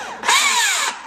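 A Makita power tool whirs up sharply, holds a loud high whine with rising pitch for about half a second, then cuts off and spins down.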